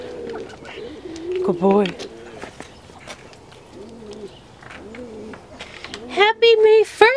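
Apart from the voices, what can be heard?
pigeons cooing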